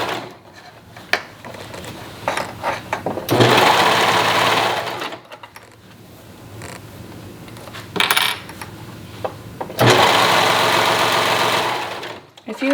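Sewing machine stitching the corners of a lined tank top in two loud, fast whirring bursts of several seconds each, separated by quieter handling clicks and rattles, close up with no speech over the runs.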